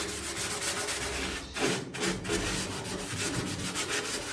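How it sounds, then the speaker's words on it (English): Scrubbing wet rust converter primer into a car's cowl panel with a scourer on an HQ GTS coupe, a steady close rasping rub that keeps up throughout with brief pauses between strokes. "I'm going to give it a good scrub with this scourer"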